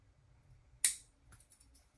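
A single sharp snip of fishing line being cut while tying a pompano rig, followed by a few faint clicks and handling noises in a quiet room.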